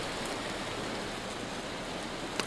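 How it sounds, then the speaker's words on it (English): Hail pelting down in a survival video game, a steady dense hiss of tiny impacts at moderate loudness with no voices, one sharper hit near the end. "Is it hailing? Is that what's going on? Yeah, I'm being hit by hail."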